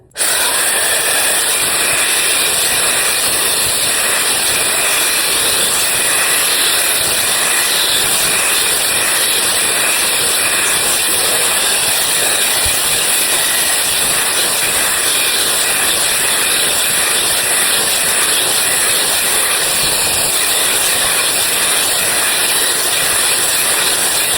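A Conair DigitalAIRE drying wand blows hair with a loud, unbroken rushing whoosh of air and a high motor whine underneath. It stays close and constant throughout, with no speech.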